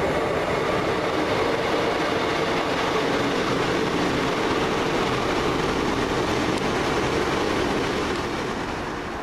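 A Class 150 diesel multiple unit glides through the platform at Port Talbot Parkway station, making a steady broadband rumble with wheel noise that holds loud and close throughout before easing slightly at the end.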